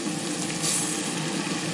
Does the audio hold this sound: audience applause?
no